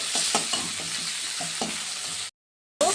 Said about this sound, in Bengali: পেঁয়াজটা লাল লাল করে একটু ভেজে নিই